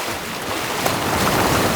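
Big ocean waves break and churn in a continuous loud roar with strong wind buffeting the microphone, heard from within the surf and with no talk.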